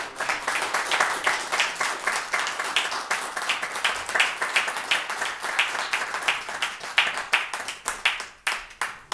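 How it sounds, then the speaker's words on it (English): Applause for honorees at a town selectmen's meeting after a Christmas award presentation, many hands clapping steadily and fairly loud for the whole stretch, with dense overlapping claps and scattered sharper individual claps near the end. "have one last round of applause for our honorees"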